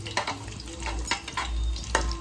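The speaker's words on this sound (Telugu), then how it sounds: "సో వీటిని ఇప్పుడు మంచిగా ఫ్రై చేసుకోవాలి." Whole spices frying in a pan for chicken pulao, giving a close, steady sizzle with a few sharp stirring scrapes and clicks scattered through it and no talking.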